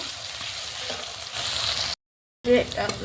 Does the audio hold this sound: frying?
yes